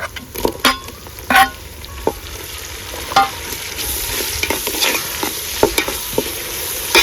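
Onions and tomato frying in a pan while being stirred, a steady sizzle broken by repeated scrapes and clacks of the spoon against the pan, close and alone.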